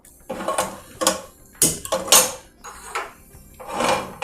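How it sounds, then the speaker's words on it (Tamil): Butter being mixed with leaves in a bowl, heard as a series of close, uneven knocks and scrapes of a utensil against the bowl, about eight strokes with no talk. "இது நல்லா இந்த பட்டரை மிக்ஸ் பண்ணிக்கோங்க"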